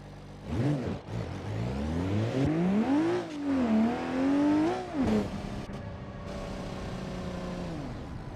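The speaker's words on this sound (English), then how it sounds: "has got quite a whiny transmission" A race car in BeamNG.drive revs up and down with a loud, rising and falling transmission whine, pitch sweeping up through the gears, then settling to a steady drone near the end, with no talk over it.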